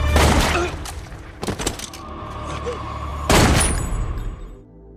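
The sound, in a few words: gunshots in the film Death Wish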